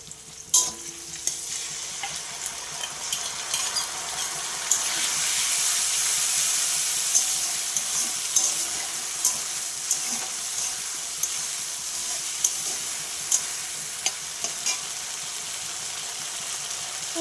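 A ground spice paste of ginger, cumin, green and red chili, poppy seed and garlic fries in hot oil with a steady sizzling hiss, while a utensil scrapes and taps the pan at intervals, close and continuous.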